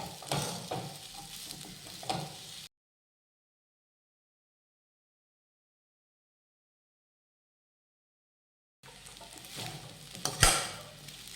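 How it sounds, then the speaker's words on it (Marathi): Sago pearls sauté in ghee and are stirred in a pan, giving a close sizzle with scraping spoon strokes; the sound drops out for several seconds midway, then returns with a louder clatter. "हा साबुदाणा तुपावर छान असा परतून घ्यायचा आहे"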